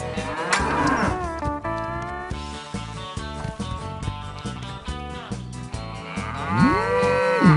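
Cartoon cows mooing loudly and close at a circus, several drawn-out lowing calls that overlap and swell, with the last one rising strongly.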